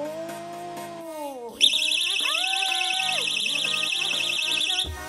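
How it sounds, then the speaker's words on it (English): A shrill electronic alarm starts after a brief tonal chime and warbles continuously at high pitch for several seconds, loud and close, then cuts off abruptly. "Alarm."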